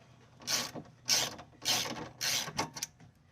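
A ratchet wrench backs off an end link stud nut on a 2012 Fiat 500, four quick bursts of close, crisp clicking followed by a couple of shorter ones.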